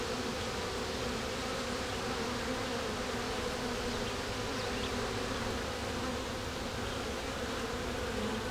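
Honeybees buzzing in an open hive, a dense, steady drone of many wings at close range, even in loudness throughout, with no voices.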